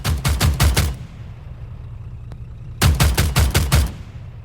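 Two loud bursts of rapid automatic gunfire in the video game Antistasi on Altis, each about a second of sharp repeated shots, separated by a quiet pause with a faint click.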